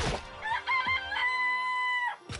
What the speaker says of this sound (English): Ha chicken noises!